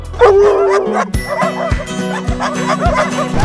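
Dogs bark and yip in quick repeated bursts at a dog park in Houston's East End, loud and close, with some whimpering mixed in and brief voices in the background.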